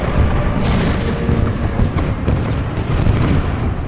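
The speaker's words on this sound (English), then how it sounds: "You hear her roars amidst the sound of cannon fire." Heavy booming blasts rumble continuously, like cannon fire, a dense loud barrage with sharp cracks scattered through it.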